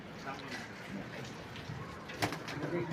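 Among racing pigeons, a young silver pigeon coos in faint, low, murmuring notes against a soft background hum, with a few sharper sounds and a voice nearby.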